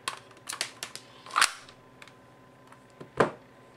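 A Y&P MK23 green gas airsoft pistol fires a series of sharp, snappy pops, several lighter ones early and two louder shots spaced apart, each standing out clearly against a quiet room.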